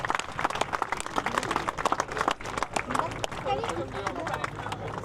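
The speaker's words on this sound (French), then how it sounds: "nous allons encore une fois prendre plaisir à offrir nos applaudissements à Sébastien Cavaillon" A crowd applauds the winner of a CCI2*-L eventing competition at the Saumur prize-giving, Sébastien Cavaillon riding Do It TED. The clapping is steady and busy, with an announcer's voice talking over it throughout.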